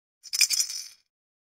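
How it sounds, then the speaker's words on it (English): A baby's rattle gives one brief bright shake of clinking, rattling bits, close and alone. "do you like playing with a rattle?"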